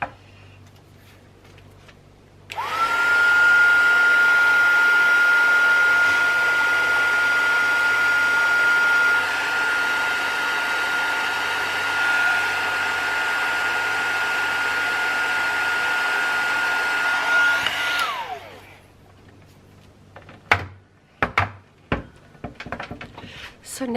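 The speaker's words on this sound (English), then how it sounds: "I'm going to get my heat gun." A heat gun blows hot air in one steady, loud whooshing roar with a faint high whine, running about fifteen seconds before switching off, followed by a few clicks and taps.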